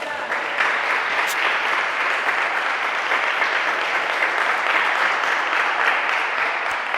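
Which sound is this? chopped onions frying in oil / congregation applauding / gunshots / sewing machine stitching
congregation applauding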